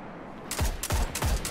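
Three sharp gunshots ring out at an even rhythm in the video game Destiny, each with a punchy low thump, loud and close after a brief quiet start.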